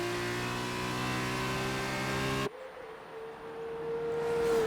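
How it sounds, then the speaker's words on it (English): Racing car engines from a sim-racing F2 round at Italy, a steady high droning whine that cuts abruptly partway through to a thinner single engine tone rising again, with no talk. "It's just the noise of the cars, isn't it? Like their engines are really overpowering."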